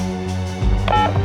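A telephone is dialled with a few quick keypad tones. The tones grow louder and overlap near the end, with no voices.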